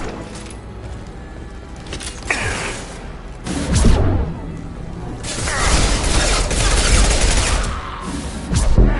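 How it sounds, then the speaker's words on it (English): Video game gunfire from Mass Effect, a sustained fusillade of weapon shots with repeated bursts and cracks that grow louder and denser toward the end, loud and close throughout with no voices. "Taking heavy fire!"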